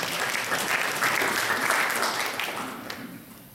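Audience applause for a poetry nominee at a literary awards gala, a dense steady clapping from a roomful of people that swells briefly and then fades toward the end, with no talk.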